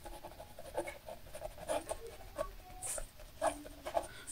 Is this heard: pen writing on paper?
yes